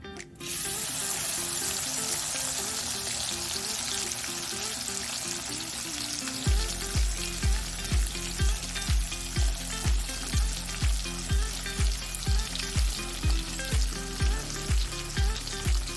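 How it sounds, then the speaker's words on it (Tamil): Marinated nethili anchovy dry fish frying in hot oil in a kadai, a dense loud crackling sizzle that runs steadily, later joined by a regular pulsing bubbling beat, with no voices. "பாருங்கள், எண்ணெய் சுட்டுடுச்சு. இப்போ வந்து நம்ம வறுக்கலாம்."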